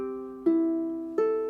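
A ukulele chord rings out, then is strummed twice more at a relaxed pace, each strum bright and close with sustained ringing strings.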